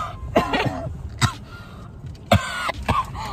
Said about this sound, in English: Oh my god, I was coughing for real.